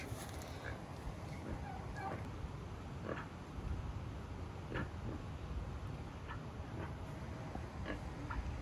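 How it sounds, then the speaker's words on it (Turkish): Pig grunting in a village of the Kogui people in Colombia, a steady low rumble of grunts and short snorts with faint voices in the background. "domuza bakın."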